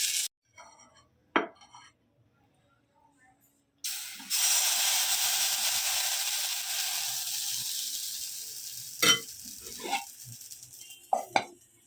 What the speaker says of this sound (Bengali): এইভাবে গ্যাস কমিয়ে কমিয়ে কমিয়ে সব কটা আমি ভেজে নেব